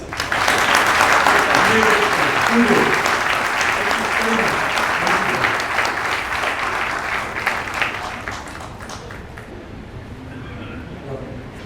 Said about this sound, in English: may I request you all for a big round of applause